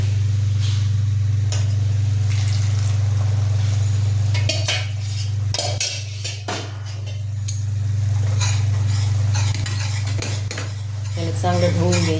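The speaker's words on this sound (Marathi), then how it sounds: "आता यामध्ये आपण बनवलेली चासणी टाकली." Sugar syrup goes into ghee-roasted besan in a metal pan, with a steady low hum, scraping utensil clatter and light sizzling bursts close by.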